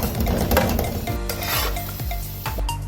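Yogurt being stirred into a mashed mixture of goat kidneys, testicles, brain and heart in a pot, a steady scraping, stirring rhythm with soft sizzling and occasional clinks of a spoon against the pan, close and moderately loud.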